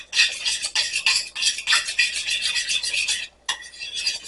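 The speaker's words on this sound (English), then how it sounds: "we're going to stir it in a separate bowl" A utensil scrapes around a separate bowl while stirring a sour cream mixture for homemade hamburger helper, making quick rhythmic rasping strokes that are loud and close, with one short pause near the end.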